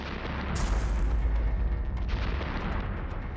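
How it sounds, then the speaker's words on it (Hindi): A deep, rumbling nuclear explosion boom swells up and rolls on, loud and sustained, with a thick low-end roar and crackling debris noise. "एक तेज चमक, एक धमाका और फिर सिर्फ राख।"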